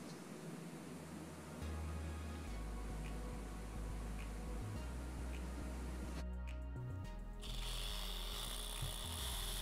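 A power tool working aluminum tabs for solar panel mounts runs steadily with a low mechanical drone, the pitch shifting partway through, fairly faint and with no talk.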